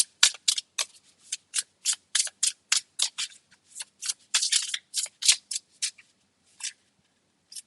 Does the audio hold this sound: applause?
no